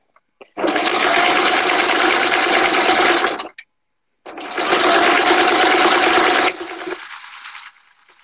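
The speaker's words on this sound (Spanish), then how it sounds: "Estamos cosiendo una bolsa plegable." Sewing machine stitching a foldable shopping bag, running in two long, loud, steady bursts with a short pause between, close up and with no voices.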